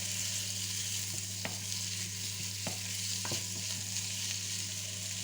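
Onion fries in a pan while being stirred, for a lentil and salt pork dish: a soft steady sizzle over a low electrical hum, broken by a few isolated taps of the spoon, with no talking.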